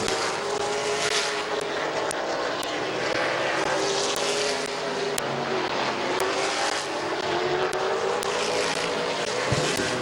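Race cars at Midvale Speedway, a dirt oval, roaring continuously around the track as a lap finishes, a dense, loud blend of engines at moderate distance with no speech.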